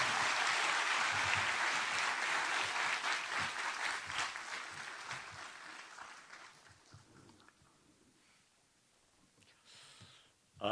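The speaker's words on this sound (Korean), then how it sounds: "하나님께 영광의 박수와 함께 우리 선교사님 나올 때 환영의 박수를 드리겠습니다" An audience at a church service claps loudly to welcome a missionary, and the applause gradually thins and fades out over several seconds.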